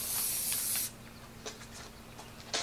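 Spray paint for a second coat on 1974 Ironhead chopper parts such as the battery box and kickstand hisses in a close, steady burst, followed by a few short spritzes after a pause.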